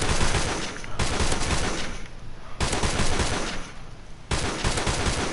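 Rapid bursts of M14 rifle fire ring out at a video game firing range, three or four long, dense volleys separated by short pauses, loud and close with no talking.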